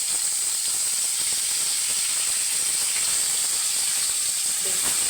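Eggplant pieces frying in a pan of hot oil for a Bengali hilsa fish curry, giving a steady, loud hiss and sizzle that runs without a break, with no talk over it.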